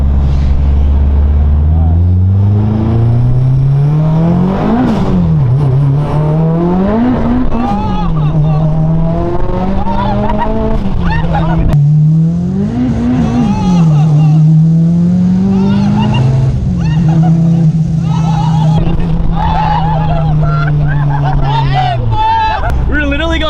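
A 661 hp Honda-swapped R34 GT Type R revving loud and close to redline repeatedly, engine pitch climbing and bouncing hard off the rev limiter cut in several surges, with voices talking over it.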